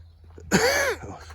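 A single sharp cough, close and fairly loud, in an outdoor setting beside a freshly cut lawn, followed by quiet background.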